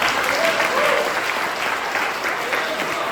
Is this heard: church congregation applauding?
yes